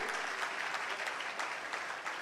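Loud, sustained applause from a crowd at a public event in Delhi, steady clapping throughout with no voices standing out.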